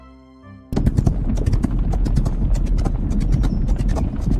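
Racehorses with jockeys break from the start and gallop at Parsons Valley in the Rival Stars Horse Racing video game, a dense, loud, continuous rumble of pounding hooves after a short quiet lead-in.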